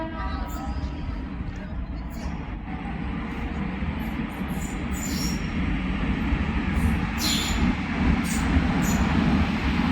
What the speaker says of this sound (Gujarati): હવે ટ્રેન આવી ગઈ છે